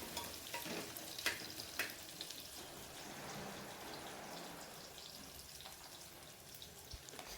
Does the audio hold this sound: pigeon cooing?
no